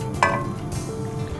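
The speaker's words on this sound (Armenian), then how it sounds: "Տապակվող սնկի վրա ավելացնում եմ սերուցք։" Champignon mushrooms fry in a pan as cream is poured in, making a short, close sizzle with a brief clink of stirring.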